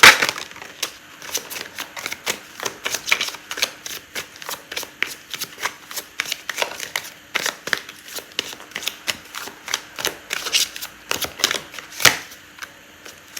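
Tarot cards are shuffled by hand in a quiet room, a long run of soft, rapid riffling and slapping taps that keeps going steadily with no talking.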